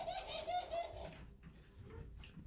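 Laughing doves coo in a breeding aviary, a rolling, chuckling call of several quick pulses heard close, followed by quieter cage noise.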